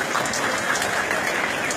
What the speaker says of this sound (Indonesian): Tepuk tangan buat ibu-ibu semuanya.